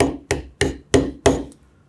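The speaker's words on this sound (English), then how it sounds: "we'll use my maul, and we're just gonna hammer straight down" Five heavy, evenly spaced maul blows strike a brass rivet up close, each a sharp thud with a brief ringing decay, then quiet.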